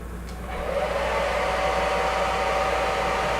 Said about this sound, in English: I kind of blow dry it a little bit, that way it will adhere